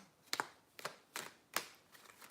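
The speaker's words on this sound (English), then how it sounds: "And I shuffle like this for minimum damage." A deck of cards is shuffled gently in four or five quick riffling bursts spaced evenly apart, close and quiet in an otherwise still room.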